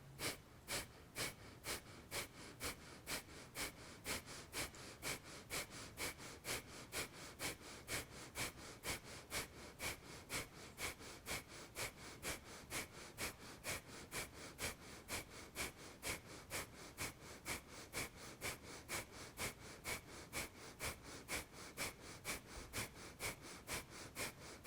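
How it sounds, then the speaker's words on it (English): Breath of fire in a kundalini yoga practice: rapid, even, forceful nasal exhales repeat at a steady pulse for the whole stretch, close and continuous, with no talking. "deep breathing or breath of fire."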